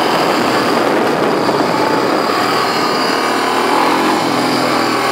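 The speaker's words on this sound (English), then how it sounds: "Fourth gear, full throttle." Honda 300 or 350 motorcycle engine held at full throttle in fourth gear, a loud continuous roar mixed with heavy wind noise for several seconds, no voices.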